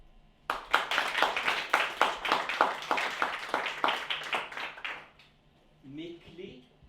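An audience claps at a slam poetry tournament, a dense burst of many hands that starts abruptly, holds steady for several seconds, then stops, after which a voice is briefly heard.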